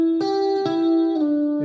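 A guitar note slides downward in pitch, sustained and clear, with a few pick re-attacks along the way before settling lower near the end; a single instrument heard alone and up close.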